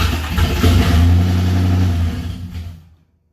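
A 1966 Mustang Boss 302 V8 on its first start revs loudly up close, a rough rising roar that holds for about two seconds before dropping away to silence.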